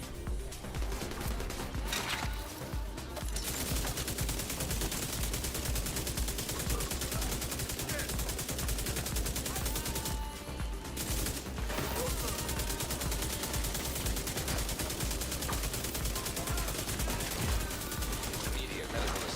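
Enemies in The Division 2 fire steadily at the player, a sustained barrage of rapid gunshots that continues almost unbroken, with a couple of brief lulls along the way.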